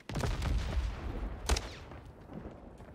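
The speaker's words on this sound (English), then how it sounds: "I'm getting sniped, man." Sniper rifle shots in Warzone 3 ring out in a few sharp, booming bursts, with one loud crack near the middle and a decaying rumble between the shots.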